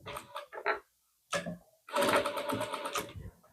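A sewing machine stitches a rounded half collar on a lining suit, running in a few short bursts and then one longer steady run, close and fairly loud.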